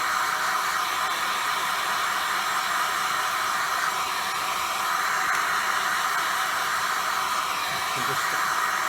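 A heat gun blowing hot air onto the metal gearbox casing of a Honda Zoomer scooter, a constant loud airy roar that holds steady throughout without any pauses.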